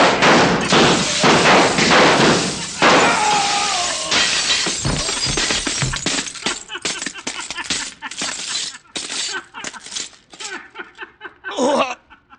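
Gunfire shatters mirrors in a carnival scene as a radio drama effect: dense, loud bursts of breaking glass and sharp cracks in quick succession, then scattered tinkling shards settling, ending in a final crash.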